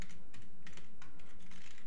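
Quick bursts of keystrokes on a computer keyboard while styling an image class for a jQuery slider, irregular clicks close up over a low steady hum, with no voice.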